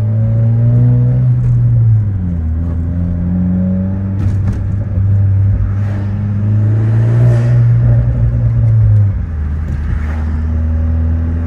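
A 10th-generation Honda Civic Si with freshly cleaned valves drives steadily, its engine droning close and loud with gear changes and shifting revs under constant road rumble, and no talking.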